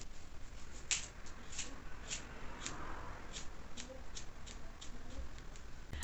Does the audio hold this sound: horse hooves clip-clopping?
no